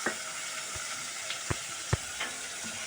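Suji and ragi flour being mixed together in a pan, a soft continuous dry rustle broken by several light knocks and scrapes of a spoon against the pan, close and quiet, no voices.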